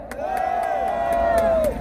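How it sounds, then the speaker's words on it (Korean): A crowd at a Korean political party press event lets out a sustained cheer with whoops and shouts, loud and continuous for about two seconds, with faint clapping mixed in. "여러분, 큰 환호 박수 부탁드립니다."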